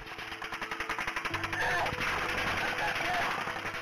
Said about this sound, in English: The officers are pinned down by automatic gunfire.